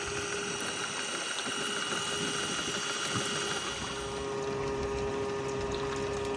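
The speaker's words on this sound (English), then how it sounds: "12-volt motor is completely covered with a rubber jacket. And it's spinning that stainless steel spindle connected to those paddles spinning in the trap." Goldrop Vortex Spinner, a rubber-jacketed 12-volt motor turning a stainless steel spindle and paddles in a water-filled trap, giving a steady, even whirring hum with churning water, constant and close.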